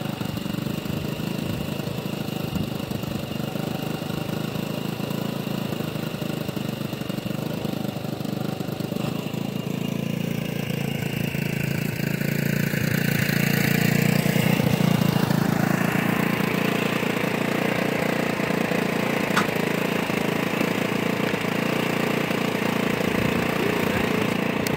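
A GY6 150cc stunt scooter engine runs steadily nearby, a continuous buzzing drone that rises slightly in pitch midway before settling, with no voices.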